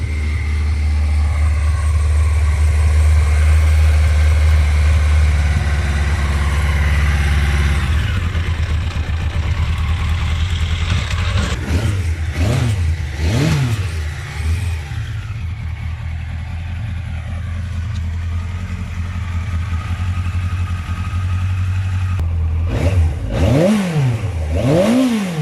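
A Yamaha XJR motorcycle's large inline-four engine idles with a steady low rumble, then blips through several sharp throttle revs that rise and fall in quick succession, loud and close.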